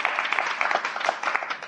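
Live audience at a New York podcast taping claps, a moderate, fairly quiet patter of many hands that stays steady through the short stretch.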